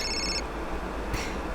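Telephone ringing in short electronic bursts, a ring, a pause, then another ring, clear and alone.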